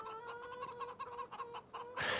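A chicken in the farming game Rise of the Homestead clucks in a rapid run of short, close calls, ending in a louder noisy burst.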